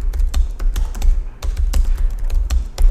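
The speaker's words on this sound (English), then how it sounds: "So I could just start typing my list items under here." Keys clatter in an irregular run of crisp taps as list items are typed into a Markdown document on a computer keyboard, close and steady with no talk over it.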